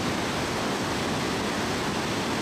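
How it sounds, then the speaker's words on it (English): Cascading water from a waterfall on a trail in Western Norway gives a steady, dense rushing roar that fills the whole stretch without a break or any other sound. "I listen to the rhythms of the cascading water"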